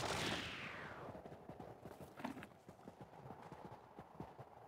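Horse hooves clip-clop in the Knightfall video game, a sweeping whoosh fading into a brisk, evenly paced gallop of close, distinct hoofbeats with no voices.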